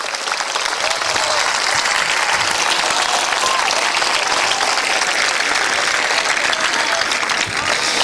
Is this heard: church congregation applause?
yes